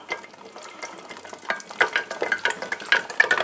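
A melting dandelion cream mixture being stirred in a pan, with scraping, clicking and sizzling textures that grow busier and slightly louder, and no talking.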